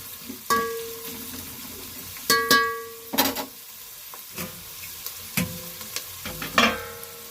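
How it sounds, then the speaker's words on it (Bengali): Onions fry in a pan with no spices, cooked until lightly reddish, making a steady sizzle broken by intermittent scraping stirs of a spoon, close and fairly loud with no talking. "পেঁয়াজটা হালকা লাল লাল হবে, লালচে লালচে হবে"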